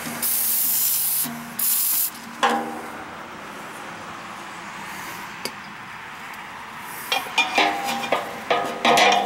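Two long bursts of aerosol lubricant spray hiss onto an old air conditioner's motor, then a shorter one, followed by scattered clicks and rattles of handling a part up close.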